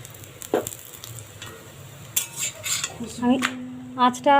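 Fenugreek-leaf paratha frying in a pan with ghee spread over it, with a soft sizzle underneath clinking utensil scrapes and metallic taps against the pan, close and uneven, with a faint voice near the end.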